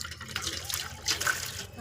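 Tap water running and splashing while dishes and utensils are washed at a sink, a soft, steady stream close by with faint clinks and splashes.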